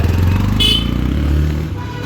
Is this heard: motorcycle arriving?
yes